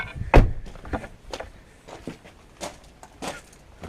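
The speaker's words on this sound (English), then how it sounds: "the first thing we're going to do is open the fuel filler door" The fuel filler door on a Mitsubishi Shogun (Pajero/Montero Sport) being opened, heard as a sharp close thunk followed by several softer knocks and handling clicks.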